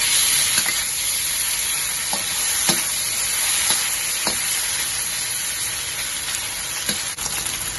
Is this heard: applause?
no